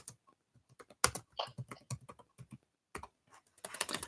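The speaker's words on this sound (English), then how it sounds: "if you can hear me frantically typing" Rapid, irregular clicking of keys on a computer keyboard, close and fairly quiet, coming in quick bursts with brief pauses.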